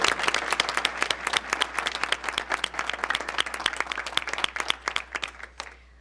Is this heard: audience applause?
yes